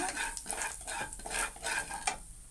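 A spoon stirs and scrapes through spices and salt in a hot pan while making spicy puffed rice, with soft sizzling and a few rhythmic strokes, close and fairly quiet.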